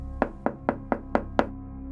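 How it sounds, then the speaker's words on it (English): Six evenly spaced knocks on a hotel room door, crisp and close, about a quarter second apart, with quiet between them and no talking. "But then, there was a knock at the door."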